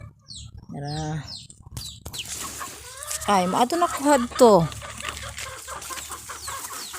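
Farm chickens clucking in a poultry yard near a pig pen, a few close cackles and squawks bunched together, with a person speaking over them at the same time.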